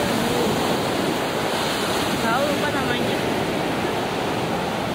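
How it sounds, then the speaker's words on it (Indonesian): Ocean surf rolls in at Batu Bengkung beach on the south coast of Malang, East Java, a loud continuous roar of breaking waves with wind buffeting the microphone and faint voices underneath. "Ini jajaran pantai selatan di daerah Malang."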